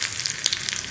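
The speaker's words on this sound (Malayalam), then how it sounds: "കടുക് പൊട്ടി കഴിയുമ്പോൾ നമ്മൾ ഈ റൗണ്ടിൽ കട്ട് ചെയ്ത് വെച്ചിരിക്കുന്ന ഉള്ളിയും കൂടി ചേർത്ത് കൊടുക്കാം" Onion slices cut into rounds frying in hot oil with popped mustard seeds, a steady close sizzle with a few sharper crackles breaking through.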